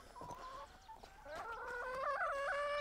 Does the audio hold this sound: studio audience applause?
no